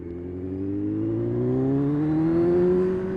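Kawasaki Z1000 motorcycle accelerating to overtake on a road lined with bushes, a steady engine drone rising smoothly in pitch as it revs up, close and loud with no talk.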